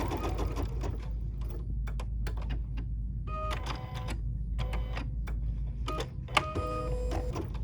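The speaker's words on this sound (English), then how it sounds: "So now we're going to stitch the placement line for the little trailer hitch piece" An embroidery machine stitches the placement line for a small appliqué trailer hitch piece on a free-standing happy camper design, a steady mechanical whir with bursts of rapid needle clatter, close and alone.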